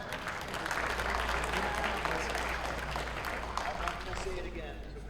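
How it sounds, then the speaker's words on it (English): A convention audience at a BronyCon 2016 reading panel breaks into applause, a broad, sustained patter of many clapping hands that swells in after a moment and holds steady, with voices mixed in. "Hooray, a little applause for this."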